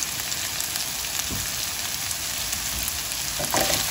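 Vegetables fry in a pan with salt, black pepper and chili flakes for Thai basil fried rice, giving a steady, close hiss and crackle of sizzling oil with a few brief stirring bumps.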